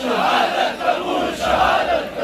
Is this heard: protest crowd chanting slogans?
yes